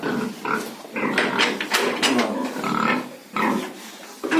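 Young pigs grunt close by in a farm shed, a steady run of overlapping snorts and grunts with no one talking.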